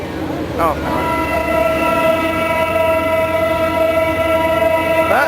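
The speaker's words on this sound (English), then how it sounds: "is apparently the shuttle train over there" A shuttle train at a comic convention sounds a long, steady horn while rumbling past nearby, the loud tone holding for several seconds over the rolling noise of the cars.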